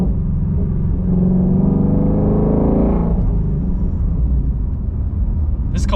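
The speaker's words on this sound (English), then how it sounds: "Little rev match. I mean, I was maybe a quarter throttle in that, and it still sounds phenomenal." A 2017 Ford Mustang GT350 engine blips in a quarter-throttle rev match, its loud, deep rumble climbing and falling in pitch over a few seconds before settling into a steady drone.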